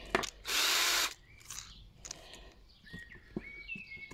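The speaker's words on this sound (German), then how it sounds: "Machen nämlich jetzt erstmal da die vier Löcher" A power drill bores holes while an agate saw is being built from an old tile cutter: one short, loud whirring burst, followed by quieter clicks, taps and handling noises nearby.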